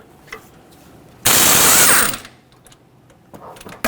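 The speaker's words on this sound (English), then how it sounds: "I have this right angle impact that will hopefully be able to do the job" A right angle impact wrench hammers on the crank bolt of a 2007-2014 Chevrolet Silverado 2500 HD 6.0L V8 in one loud, close burst of just under a second, with quiet handling clicks before and after.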